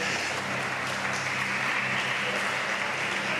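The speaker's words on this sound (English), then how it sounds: "Let's give one more round of applause for Matt Sates." Crowd applause for a swimmer at the South African Olympic swim trials, a steady, even wash of clapping from a large arena audience, distant and unbroken for the whole stretch.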